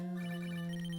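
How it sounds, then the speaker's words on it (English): A phone call ringtone in a Pokemon randomizer video game plays as a steady, loud electronic tone, held throughout without talk. "Nice phone call."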